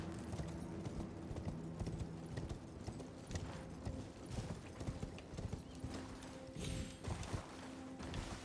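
Horse hooves clip-clop steadily while riding in the video game Elden Ring, a continuous galloping rhythm with an occasional whinny over ambient game sound.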